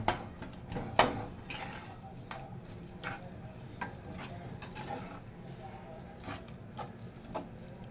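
Mawa being stirred into carrot halwa in a pan, with a spoon scraping and clinking against the metal in irregular strokes over a soft sizzle, a couple of sharper knocks early on, fairly quiet and close.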